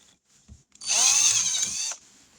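A power drill bores through a new carburetor for a tri-fuel conversion, a single loud high-pitched whine lasting about a second after a couple of faint handling knocks.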